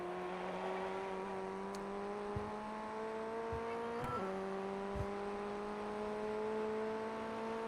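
Open-wheel FF1600 race car engine in the iRacing sim at Oran Park, revving high in third gear with a steady, continuous drone that climbs in pitch, dips briefly at a gear change, then resumes, accompanied by a few faint clicks.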